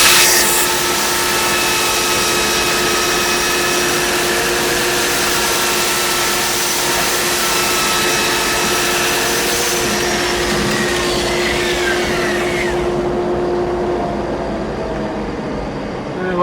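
A wooden rolling pin spinning on a lathe while 320-grit sandpaper is pressed against it, a steady whirring hum with a hissing, rasping sanding texture, continuous for about thirteen seconds before the sanding stops and the lathe keeps humming.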